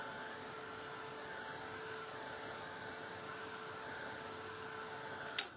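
A hair dryer drying craft paint gives a steady, even whooshing hum that runs unchanged for several seconds before cutting off with a brief click.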